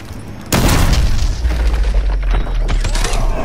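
Breaching charge explosion in Call of Duty Modern Warfare 2 Remastered, a sudden loud boom that bursts in near the start and rolls into a sustained, dense rumble with scattered mechanical clatter and debris.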